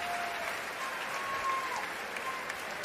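Spectators in Gregory Gym applaud players after a collision during a college volleyball match between Texas and SMU. The clapping is steady and crowd-wide, with gym noise and a faint whistle-like tone underneath.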